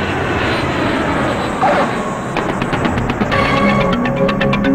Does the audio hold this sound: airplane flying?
yes